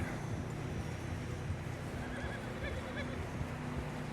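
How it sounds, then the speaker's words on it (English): A horse whinnies softly in the video game Red Dead Redemption 2 amid a noisy, rumbling snowy outdoor backdrop with faint hoof clatter, the call fairly distant and brief. "Is that a horse?"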